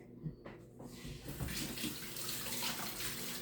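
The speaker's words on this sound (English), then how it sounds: "I'm going to just wash my hands here, get all this lovely seasoning off." A kitchen tap runs steadily into a sink as hands are washed clean of rib seasoning. The splashing stream starts up after a moment and continues close and constant, with no talking.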